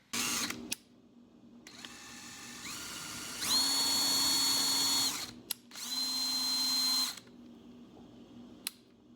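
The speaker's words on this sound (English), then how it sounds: "I'm going to go ahead and drill these threads out so that this is smooth" Power drill boring out the threads of a metal part, several short bursts of high whirring with rising pitch, the longer runs loud and close, separated by brief pauses and faint clicks.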